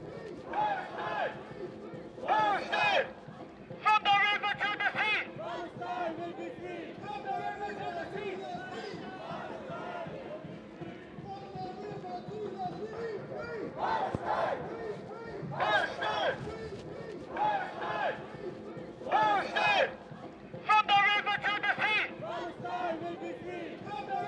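A large crowd of protesters chants rhythmically in bursts at a street protest in Manchester, loud and close, with a steady murmur of voices between the shouted call-and-response lines.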